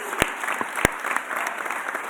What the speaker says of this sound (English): Give Howie a round of applause.